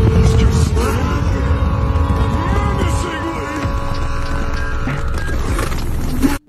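Twin-turbo Lamborghini Huracan with a rolling anti-lag system roars loudly, its engine droning with a rough, crackling edge and a shifting pitch that dips midway, a voice talking over it before it cuts off abruptly.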